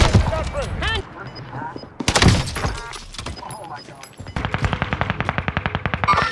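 Gunfire in a video game: scattered shots early on, then a rapid machine-gun-like burst at the end, with a player's voice talking over the action.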